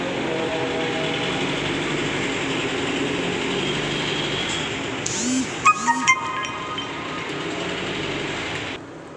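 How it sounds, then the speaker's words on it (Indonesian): A Dongfeng diesel engine runs steadily for most of the span, a dense continuous drone with a few metallic clinks near the end before it cuts off; no one speaks. "karena kalau nggak begitu nanti gasnya kurang besar, suara mesinnya berat"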